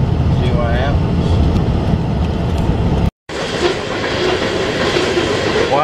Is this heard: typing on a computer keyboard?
no